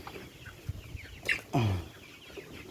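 Kalabati chickens cluck on a poultry farm, a few close, short clucks and calls over a quiet barn background.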